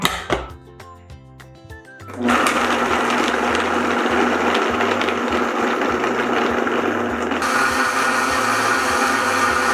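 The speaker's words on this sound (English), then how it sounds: "With a grown-up's help, add a lid, blend, and strain." A countertop blender whirs loudly as it blends frozen blueberries with water. A short bit of light music comes first, then the steady, close blending noise runs without talk until the end.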